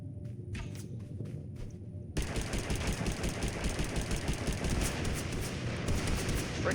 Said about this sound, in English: You have somebody to your right who's actively shooting you